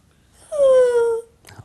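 A person imitates a sister's snoring with a single drawn-out, wheezy, whining breath lasting under a second, close and fairly loud, followed by a brief faint rustle.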